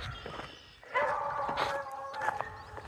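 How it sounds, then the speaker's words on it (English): A dog barks near a farm pond on an early morning, a few sharp barks and yelps with whiny, howl-like tones, moderately loud and close over soft outdoor background. "well, there's one of JR's dogs"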